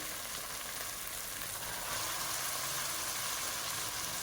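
Mutton pieces fry in oil with ginger garlic paste, a dense steady sizzle that hisses loudly and evenly throughout with no talking.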